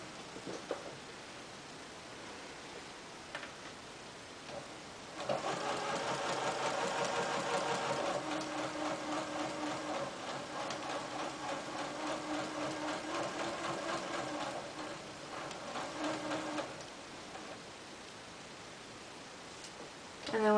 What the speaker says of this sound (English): So I'm just going to go ahead and lower my needle and presser foot into that basting stitch line, and I'm just going to go ahead and attach these.